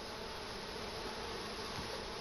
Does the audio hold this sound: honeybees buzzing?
yes